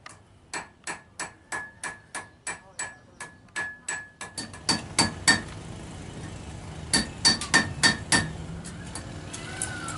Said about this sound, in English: Right now we're going to watch a blacksmith make a nail.